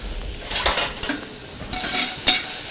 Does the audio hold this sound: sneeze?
no